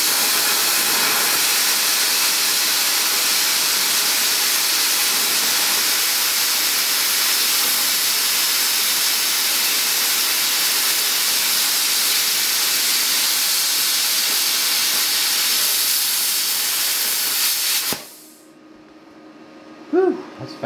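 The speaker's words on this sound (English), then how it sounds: "let's fire up the machine. I think we've got a go here, but this is quarter inch material." A Vevor CUT-50P plasma cutter slices through quarter-inch steel with a loud, steady roaring hiss that runs unbroken for about eighteen seconds, then cuts off abruptly into near silence.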